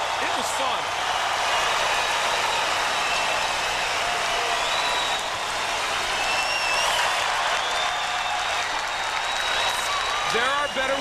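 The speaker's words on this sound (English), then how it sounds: "listen to the crowd." A boxing arena crowd roars and cheers after a women's bout ends, a loud continuous wall of crowd noise with whistles and shouts rising through it, and a commentator talking over it.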